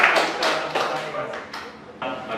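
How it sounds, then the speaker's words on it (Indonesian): Classroom applause for a student group breaks out as a short burst of scattered claps and taps lasting a couple of seconds. "berikan aplaus untuk kelompok"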